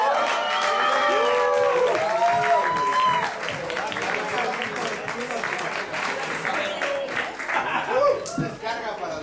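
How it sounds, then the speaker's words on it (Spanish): A crowd at the Brújula brewery concert applauds the composer of a piece, steady clapping mixed with chatter, chuckles and a few cheers, moderately loud throughout. "que también pide un aplauso"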